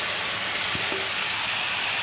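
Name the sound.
chicken frying in onion and ginger-garlic paste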